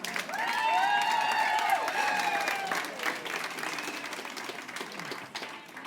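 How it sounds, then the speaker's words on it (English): Studio audience at a Money Spinner prize draw applauding a winner, loud sustained clapping with a few cheers, while a host talks over the start before the applause gradually thins out. "Give him a big round of applause, ladies and gentlemen."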